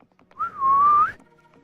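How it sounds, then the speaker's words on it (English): A single clear whistle in a video game, rising briefly and then holding a steady tone for just under a second, close and alone. "Try whistling. Like this."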